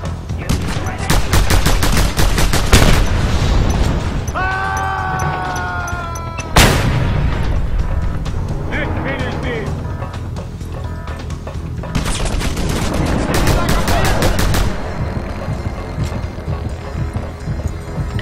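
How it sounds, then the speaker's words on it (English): Gunfire in the video game Just Cause 2, heard as dense, loud bursts of rapid automatic fire, a sharp blast partway through and more bursts later, continuous and close. "stop shooting me"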